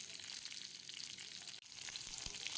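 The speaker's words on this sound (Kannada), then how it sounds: "ಉರಿ ಚಿಕ್ಕದು ಮಾಡಿ ಸ್ವಲ್ಪ ಹುರಿಬೇಕು ಇದನ್ನು." Urad dal, cumin and green chili frying in a pan, a soft continuous sizzle with crackling bursts, faint and close with no talking.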